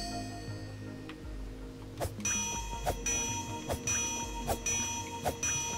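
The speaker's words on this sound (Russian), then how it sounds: "Я не знаю, что не так с этим колокольчиком, или наоборот, что так" Bell in the video game TUNIC rings in about five evenly spaced bright strikes, moderately quiet, over a soft tonal game backdrop.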